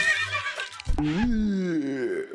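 A horse in a Minecraft-style LEGO world lets out one loud, close whinny that rises and then trails off over about two seconds.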